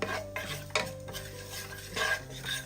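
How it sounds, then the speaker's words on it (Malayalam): Cumin seeds roasting in a pan are stirred, producing a run of close scraping strokes and light clinks from the spoon against the metal. A faint sizzle sits under the strokes, and no one speaks. "നല്ലൊരു മണം വരുന്നവരെ ഇതൊന്ന് ഇളക്കി കൊടുക്കാം"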